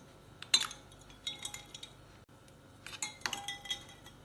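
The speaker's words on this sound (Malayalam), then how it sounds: "ഇതിലേക്ക് ഐസ് ക്യൂബ്സ് ചേർക്കാം." Ice cubes drop into a glass of rose sharbat. Two quick clusters of bright clinks and knocks sound close up in a quiet room.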